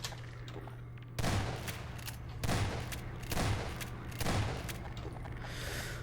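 Four heavy bursts of gunfire in Half-Life 2 arrive about a second apart over a constant low hum, with rumbling noise between shots.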